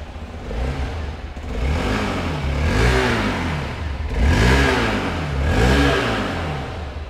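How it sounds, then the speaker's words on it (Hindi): A 2022 Hero XPulse 200 4V motorcycle sits stationary and revs through its exhaust. Three distinct throttle blips rise and fall over a steady idle, close and fairly loud. "तो इसका एग्जॉस्ट नोट सुन लेते हैं अभी"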